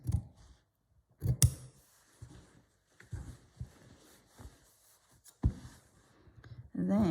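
Scissors snip away excess fabric around an embroidery piece, quiet close cuts and crisp clicks coming in uneven bursts with pauses between them.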